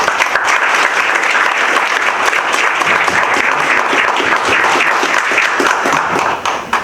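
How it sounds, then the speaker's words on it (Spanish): Strong, dense audience applause fills an academic forum hall at a school of economics, a sustained and even wash of many hands clapping close by that holds steady throughout. "Entonces también les pido para él un fuerte aplauso."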